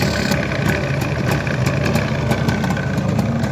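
A Jawa motorcycle engine idles steadily up close while warming up, a loud, even low rumble with no voices.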